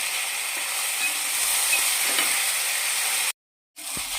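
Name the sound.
mixing chopped onion and green chillies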